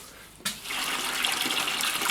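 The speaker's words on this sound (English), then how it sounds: "So I'm just going to siphon out about 10-15 litres of water." Water rushes steadily as it is siphoned out of a 65 cm aquarium tank, a hissing, splashing flow that starts abruptly after a brief quiet moment and continues at an even, fairly close level.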